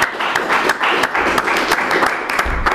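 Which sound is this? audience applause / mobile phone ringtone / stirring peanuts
audience applause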